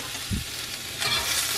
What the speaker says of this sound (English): I'm sauteing the broccoli and green beans, and I'm just gonna put a little chopped garlic in there